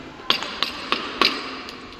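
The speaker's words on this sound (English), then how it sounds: "the same level of force on the workpiece material by the aid of wooden hammer and chisel" A wooden mallet strikes a chisel into a wooden workpiece while a mortise joint is cut: four or five sharp, evenly spaced knocks in quick succession, close and clear, with no voices.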